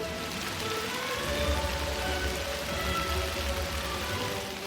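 Steady rain pours over a crowd gathered with umbrellas in a town square, a dense continuous hiss with a low rumble underneath, unbroken across the whole stretch and no voices standing out.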